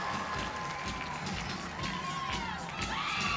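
Crowd cheering at a college gymnastics floor exercise in a Big 12 meet, a loud continuous roar of voices with shouts and whistles rising toward the end.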